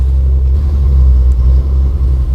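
Steady low rumble of a 1939 Plymouth Mayflower sedan driving slowly nearby, the engine droning evenly with slight swells and no talking.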